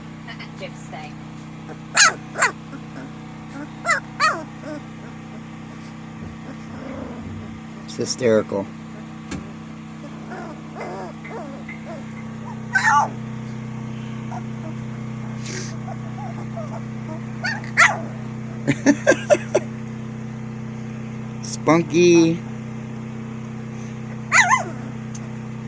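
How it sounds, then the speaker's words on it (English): A mother dog barks in short scattered bursts near a litter of playful puppies, several sharp barks spread across a steady low background hum, with a person talking now and then. "Now Mama's barking."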